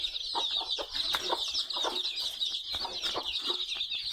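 A village desi hen with her twenty newly hatched chicks makes soft, repeated clucks over a constant high cheeping from the brood, all at close range.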